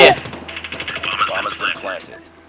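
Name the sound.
gunfire in video game Call of Duty Mobile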